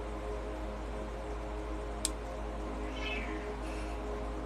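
A cat meows indoors, a few faint, drawn-out calls over a steady low background hum, with a brief tick partway through.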